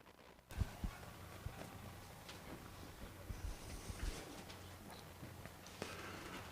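Harness racing horses trotting behind the starting car at a county fair track, with faint, distant hoof clip-clop scattered over a steady low rumble of the approaching car and outdoor ambience.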